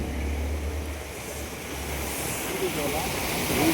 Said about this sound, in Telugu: వరదలు పోయినట్టు పోతున్నాయి వాగు పోయినట్టే వెళ్తున్నాయి